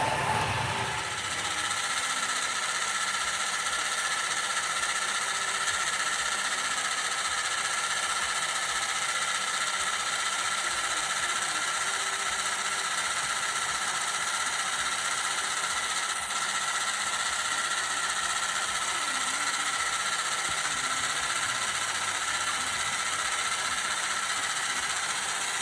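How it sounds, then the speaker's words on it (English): A Tri-ang R.159 double-ended 'Blue Streak' model diesel locomotive runs along its track, giving a steady, faint whirring hum with a slightly rough, buzzing edge from its knurled drive wheels, continuous for over twenty seconds without speech. "That rough running we're hearing there isn't really rough running. The motor runs beautifully and smoothly, I think. It's the noise created by these knurled drive wheels,"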